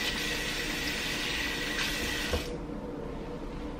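Tap water runs steadily into a sink while a wig is rinsed, a broad continuous splashing rush that cuts off abruptly partway through, leaving a quieter room tone.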